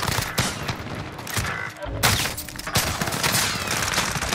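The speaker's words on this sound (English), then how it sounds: "That's a shotgun." Rapid gunfire bursts loudly in the online shooter Warzone. The fire comes in dense, close volleys with a short pause near the middle before more shots ring out, and a player speaks faintly underneath.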